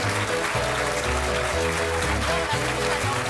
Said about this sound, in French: applaudissez puisque vous en avez envie